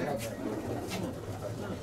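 Show pigeons coo softly in low, repeated throaty murmurs, close by in a quiet loft, with a person talking over them.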